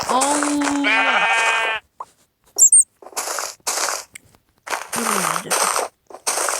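Sheep in the Minecraft video game bleat loudly twice, wavering and nasal, separated by a sharp chiming pickup sound and bursts of game noise, with brief soft thumps in between.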